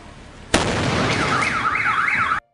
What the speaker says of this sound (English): When watching these fireworks,